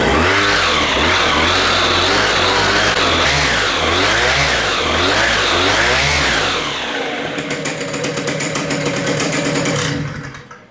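A Macfly Atom 80 engine runs loud and close, its pitch surging up and down as the throttle is worked, then settles into a rougher, steadier buzz before cutting off near the end.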